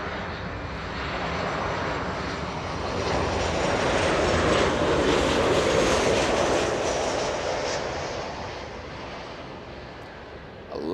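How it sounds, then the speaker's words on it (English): An Alaska Airlines Boeing 737-900 arriving at LAX from Seattle passes with a broad jet roar that swells to a peak midway, then slowly fades, heard alone without talk. "Alaska 398 flying in from Seattle, Washington. 2 hours of flight time, a 737-900"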